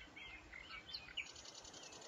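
Birds chirp and tweet in a summer-spring ambient loop from a game engine open world, light scattered high calls with soft wing flutters, quiet and steady.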